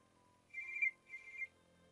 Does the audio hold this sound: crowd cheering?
no